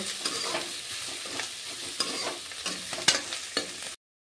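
Onions frying in a pan for chicken dak bungalow curry, a steady close sizzle broken by repeated scraping stirs, with no voices.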